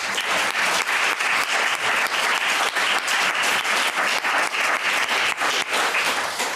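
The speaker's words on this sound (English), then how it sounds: "Just give a final round of applause." An audience at the close of an Indigenous-practice panel session gives a final round of applause, a steady, fairly close wash of many hands clapping throughout.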